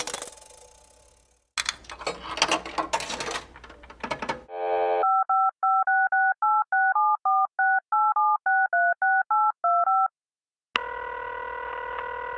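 Telephone dialing tones from the video game Serious Sam HD: a quick run of clear, evenly spaced electronic beeps after a burst of noisy game sound, then a steady tone at the end.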